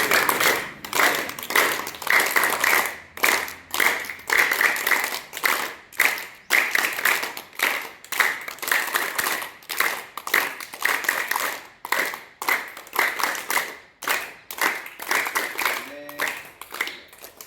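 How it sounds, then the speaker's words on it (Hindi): Group hand clapping as a yoga exercise, with fast, steady rhythmic claps repeating for a long stretch, fairly loud and close, with brief pauses and faint voices. "नेक्स्ट अभ्यास ताली वादन"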